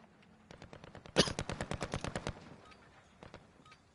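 An AK rifle in the Warzone video game fires a rapid automatic burst, close and sharp, then a few scattered single shots trail off into quiet.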